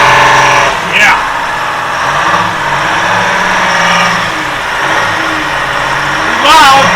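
Detroit 6V53 diesel in a 1969 Loadstar dump truck, engine cover off, running loud and close with a steady rumbling idle that swells slightly at moments; a brief mechanical squeal rises near the start and again near the end.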